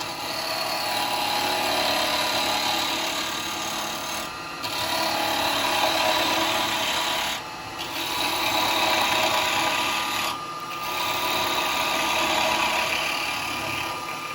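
Slicing cuts with a chisel on a wood lathe, turning a pot and scoop: a continuous loud rasping hiss in four long strokes separated by brief gaps, close and without speech.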